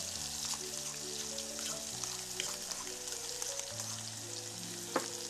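Onions frying in a pan, giving a steady bright sizzle close by with a few small pops and a light clink near the end, over a low background hum.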